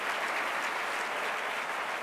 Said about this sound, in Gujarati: એકવાર તાળીઓ એના માટે સ્પેશિયલ આપીએ.